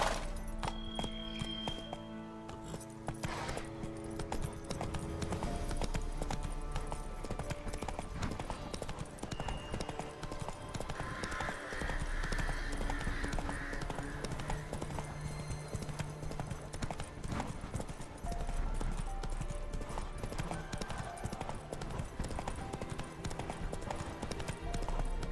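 Clip-clopping hooves of the horse Roach in The Witcher 3 video game, a steady rhythmic trot with an occasional whinny over game music and ambience.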